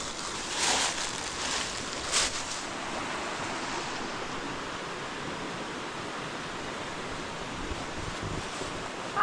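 A small waterfall cascades at Jones Gap, giving a steady broadband rush of falling water that stays near and even throughout, with a couple of brief brighter surges early on.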